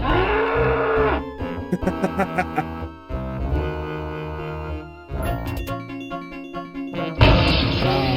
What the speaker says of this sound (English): And now the cow goes.